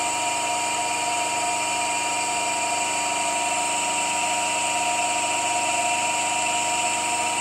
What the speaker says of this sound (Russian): Двигатель в резонансе.